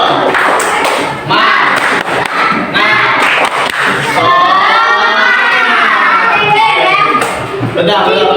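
Children in a classroom doing a rhythmic spirit clap, loud crowd of young voices shouting and chanting together with claps and thumps throughout.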